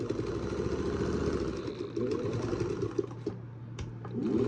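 A household sewing machine stitches fabric with a fast, steady mechanical whirring and clatter that runs continuously throughout, close and fairly loud with no talking.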